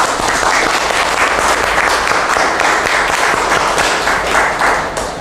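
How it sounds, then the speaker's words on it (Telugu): Training session participants clap loudly together, a dense, steady burst of applause filling the room without letup for the whole stretch. "సార్ గట్టిగా చప్పట్లు కొట్టండి అందరూ."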